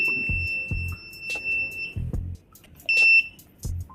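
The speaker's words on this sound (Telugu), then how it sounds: "కంటిన్యూస్గా బీప్ రావడం వల్ల ఏమవుతుందంటే అలర్ట్ అయ్యి వాళ్ళు ఇబ్బంది లేకుండా హ్యాపీగా పక్కకి వెళ్ళిపోవచ్చు" Smart glasses for blind people give an obstacle warning: a steady high electronic beep holds for about two seconds, returns briefly near the end, and dull thumps and knocks sound beneath it.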